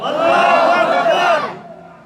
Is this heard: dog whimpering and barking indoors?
no